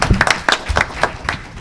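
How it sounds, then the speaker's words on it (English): Applause from an audience at a criminal justice summit for a speaker being introduced, a short burst of close, uneven claps rising and fading over about a second and a half. "Can we give him a round of applause,"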